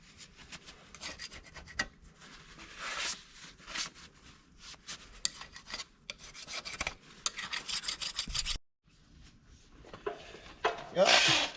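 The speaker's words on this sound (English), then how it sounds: "Just getting that scaly stuff, any little bits of the old head gasket, get her all scraped off there" Scraper rasping old head gasket scale off the block of a John Deere 4840 tractor engine, a run of close, uneven scraping strokes with short pauses, then a brief louder burst near the end.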